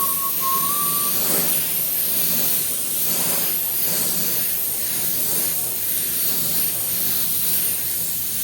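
An airbrush sprays paint onto saddle bags in a continuous close, loud hiss that holds steady throughout, with a brief thin whistle at the start and no voices.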